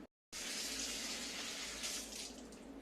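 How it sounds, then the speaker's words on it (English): Tap water runs into a container being filled for a makeshift sous vide bath. A steady, close, full-bodied gush starts abruptly after a brief silence and continues without talk. "So I filled up some water."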